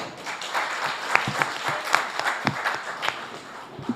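An audience at a conference debate applauds with steady, moderately close clapping and a few sharper claps standing out, without pause.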